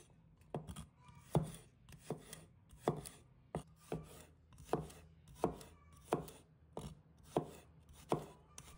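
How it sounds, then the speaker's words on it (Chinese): A knife slices ginger and garlic on a cutting board in a steady run of crisp, evenly spaced chops, close and clear with no talking. "接下来我们准备一块生姜，把它切成片； 一把大蒜，把它切成片；"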